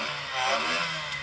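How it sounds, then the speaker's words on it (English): A Reliant Regal car engine revs briefly, a buzzy small-engine note rising and easing back within about a second, close and fairly loud. "So I'm going to rev up this Reliant Regal."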